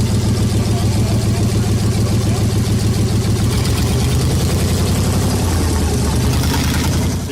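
A Ford Flathead V8 rumbles steadily at close range, a deep, rhythmic idle from eight cylinders with a loud, even exhaust pulse, while a person talks over it.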